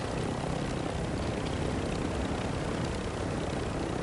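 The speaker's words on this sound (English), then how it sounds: "We have a whole squad of helicopters" Helicopters flying in a video game, a dense, constant rotor and engine roar that fills the whole clip with no breaks or talk.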